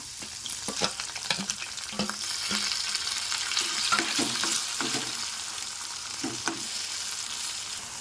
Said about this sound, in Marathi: तेल तापलेलं आहे, त्याच्यामध्ये आपण पहिल्यांदा राई टाकणार आहोत आणि मग कढीपत्ता टाकणार आहोत